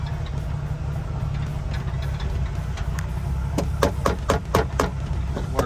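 A cold 1988 Jeep Wrangler Sport engine runs with a low, rough idle, then is revved. Sharp ticking bursts grow louder toward the end, heard close and alone.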